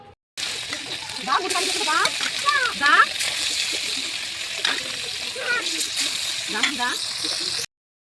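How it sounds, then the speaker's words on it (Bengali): Fish frying in hot oil in a wok keeps up a steady broadband sizzle and spatter for most of the clip, with a voice talking over it throughout. "এই যে কড়াইতে আমি তেল দিয়ে দিয়েছি আর তেলটা গরম হয়ে গেছে এখন মাছগুলোকে দিয়ে দেবো"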